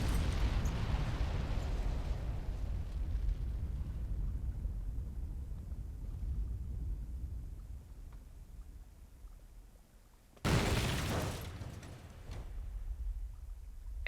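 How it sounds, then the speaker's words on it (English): A video-game explosion from 428: Shibuya Scramble, a car bursting into flames by a roadside, erupts as a sudden loud blast after a long fading low rumble, then trails off into a dull roar. "Explosion!"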